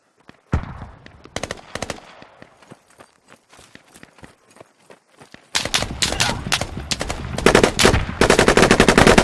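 Rapid gunfire in the tactical shooter Squad: scattered single shots and short bursts at first, then dense, sustained automatic fire that grows loud and close, crackling in quick repeated volleys.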